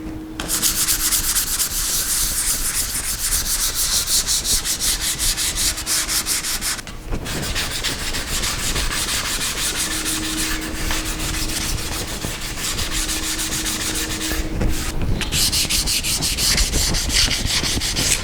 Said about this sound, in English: I'm just going to go ahead and continue sanding this